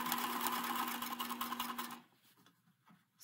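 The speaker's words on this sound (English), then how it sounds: "And we're ready to sew this edge." A sewing machine stitches along the edge of a fabric face mask, running loud and steady for about two seconds before stopping, then leaving only faint room noise.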